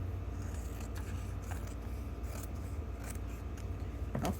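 Scissors trim paper for a junk journal pocket, making soft snipping cuts over a steady background rumble, close and fairly quiet.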